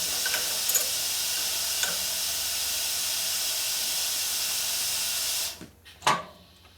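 Continuous harsh, hissing metal grinding from a valve seat cutter on a 1961 Harley-Davidson Sportster XLCH engine runs for over five seconds, then stops, followed by a couple of clicks and knocks.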